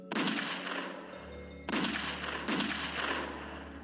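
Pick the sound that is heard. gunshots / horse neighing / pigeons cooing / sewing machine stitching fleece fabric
gunshots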